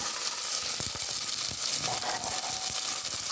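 Chopped shallots frying in hot coconut oil with spices for a beef dish, a steady, close hiss and crackle of sizzling with occasional stirring scrapes.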